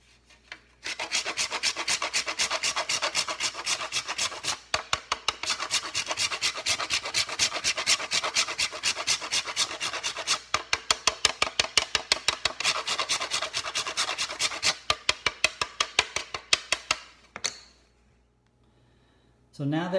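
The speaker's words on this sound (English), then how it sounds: "We take the chocolate out of the freezer and grate it onto" Frozen chocolate grated onto a tiramisu dish layered with ladyfingers and mascarpone, a close, steady rasping scrape in quick repeated strokes that pause briefly and then resume.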